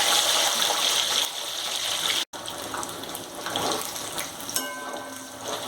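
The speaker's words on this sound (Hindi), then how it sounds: "तब तक मैं अंडा भी फ्राई कर लेती हूँ।" Egg frying in a pan, a loud continuous hiss and crackle that cuts out briefly, then returns slightly softer with scattered pops.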